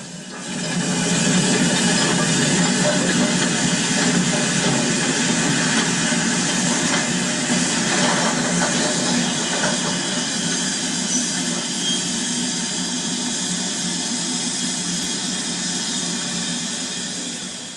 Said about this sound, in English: Out of the darkness of Hampton Tunnel comes the sound of an engine working hard.